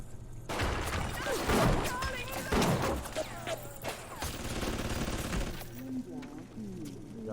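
An automated turret in BioShock fires rapid bursts amid game combat, sharp shots and impacts clustered early then tapering, mixed with cries and game sounds at moderate loudness.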